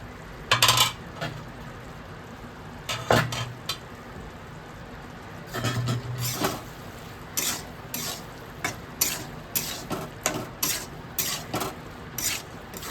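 With the lid off, a spatula stirs a potato and bori curry in a pot, producing repeated scraping clatters against the metal, some in quick bursts, over a low continuous simmer.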